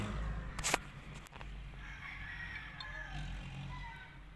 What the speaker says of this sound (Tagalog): Ito, maraming manok dyan.